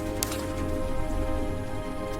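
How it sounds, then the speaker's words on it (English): Heavy rain pours steadily over sandy ground, a loud, dense and unbroken hiss that fills the whole stretch with no voices. "Heavy rain floods the trap."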